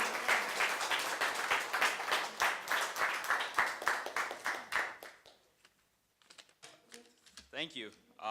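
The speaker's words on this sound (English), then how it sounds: "Ladies and gentlemen, let's give a warm round of applause." An audience at a high school poetry event applauds, a burst of dense clapping that fades out after about five seconds, followed by a few scattered claps and brief talk.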